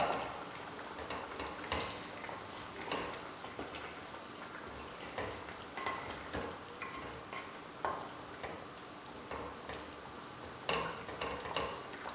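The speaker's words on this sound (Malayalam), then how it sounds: "ഇനി ചെറുതായി ഒന്ന് ഇളക്കി കൊടുക്കാം" A spoon stirs Kuttanadan-style fish curry with fish heads (meen mulakittathu) in a pot, giving soft, irregular scraping clicks and faint sizzling that run on steadily with no talking.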